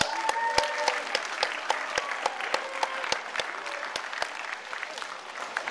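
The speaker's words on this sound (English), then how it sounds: "Give Ernie Conwell a warm round of applause." A camp audience gives speaker Ernie Conwell a warm round of applause, dense sustained clapping with crisp individual claps near and far, fading slightly toward the end.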